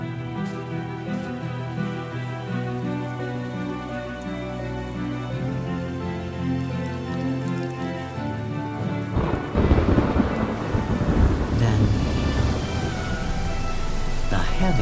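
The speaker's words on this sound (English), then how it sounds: "the clouds release a few fine drops on the water's surface" Rain falls over a mangrove waterway during a storm, with rumbling thunder. Music plays alone at first, then a dense, loud wash of rain and thunder builds from about the middle onward.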